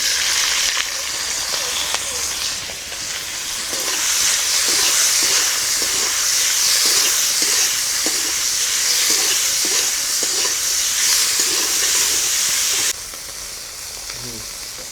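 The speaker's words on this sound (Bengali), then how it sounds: "এবারে মাছগুলো ভেজে নেবো" Prawns frying in mustard oil in a traditional village kitchen, a loud, dense, continuous sizzle and hiss with faint stirring clicks, close up and alone, easing slightly near the end.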